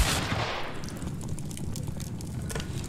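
Gunfire in a circus-themed video game, a sharp loud blast at the start followed by a dense rumbling, crackling burst that sustains without pause.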